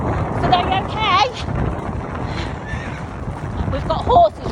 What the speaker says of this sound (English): We've got horses racing us on the right of us.